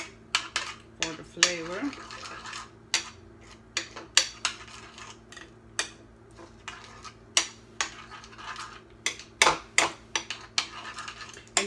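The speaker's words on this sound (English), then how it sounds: "I have that Wonder Cocoa fat-free. So I just mix that in" A spoon stirring Wonder Cocoa into steel cut oats cooked in an Instant Pot, rapid repeated scraping clinks against the steel pot, close and steady, with a brief spoken phrase.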